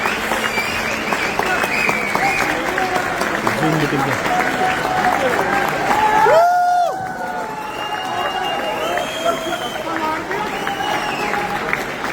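An audience at an award function in Delhi claps and cheers steadily, with crowd noise and voices carrying over the applause and a brief louder swell partway through.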